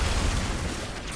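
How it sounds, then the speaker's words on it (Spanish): A game explosion in Destiny 2 that sounds as a loud, dense, broadband blast with heavy low rumble, sustained through the moment and then thinning out slightly toward the end, with no voices over it. "Super explosión de primeras."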